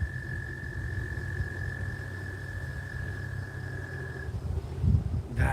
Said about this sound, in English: I don't know if that's a cricket or what, that's loud